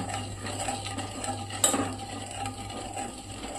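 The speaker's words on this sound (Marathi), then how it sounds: "आपण ही नीट मिक्स करून घेऊया" A spoon scrapes softly around a pan of spices for Andhra-style katachi amti, quiet stirring with one brighter clink midway and a low hum underneath.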